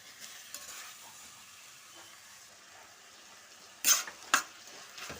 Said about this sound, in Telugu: ఇప్పుడు ఈ టమాటాలు సాఫ్ట్ అయ్యేంత వరకు కుక్ చేసుకోవాలండి మనం